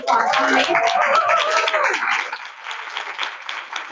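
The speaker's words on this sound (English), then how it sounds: "we give her a round of applause" Conference audience applause at a transplant event, honoring a recent kidney transplant recipient: a dense, steady wash of many hands clapping, loud at first and then tapering, with voices mixed in.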